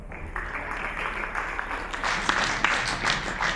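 Audience applause at a live stand-up comedy show, a short burst of scattered clapping that swells toward the end, moderately distant in a hall.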